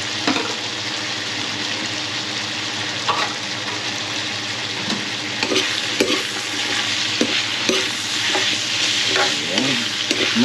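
Celery and chili sizzle and hiss as they are stir-fried in a hot pan, with steady frying noise and scattered scraping stirs throughout.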